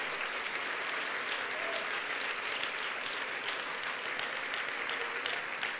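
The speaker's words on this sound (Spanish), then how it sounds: "Que sea fuerte ese aplauso al Señor." Steady, dense applause from a church congregation at a Pentecostal service, sustained and even for the whole span with no voices above it.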